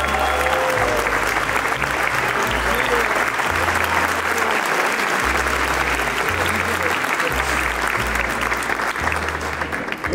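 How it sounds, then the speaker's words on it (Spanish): Loud crowd applause at the Zacatecas International Film Festival, dense sustained clapping from a large audience that runs continuously, with a low rumble underneath. "Fuerte el aplauso,"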